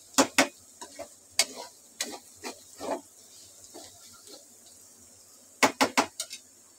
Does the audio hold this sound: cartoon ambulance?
no